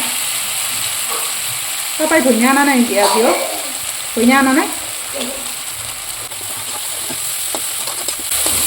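Spices with coriander powder fry and get stirred in a pan for an Assamese drumstick curry, a steady sizzle with scraping stirs. A voice speaks briefly over the cooking noise in the middle.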